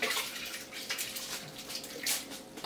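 About 150 millilitres of water splashes into a container and is swished around to rinse out leftover broccoli and butterbean soup ingredients, a quiet sloshing with a few small splashes and no talking.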